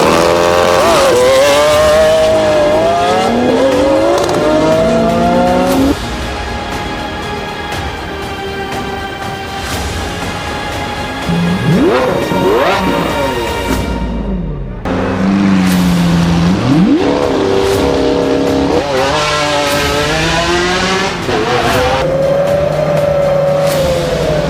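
An AI-designed Lamborghini concept car's engine revs hard and loud, its pitch sweeping up and down through repeated surges, with a brief squeal and a short lull in the middle before the roaring climbs resume.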